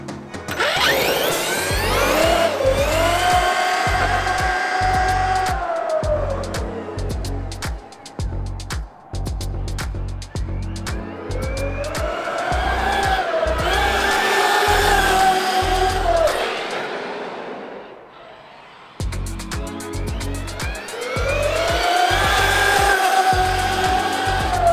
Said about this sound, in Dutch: het verschil in toeren op, met 4S en 6 is echt groot. Je hoort die motor echt heel erg.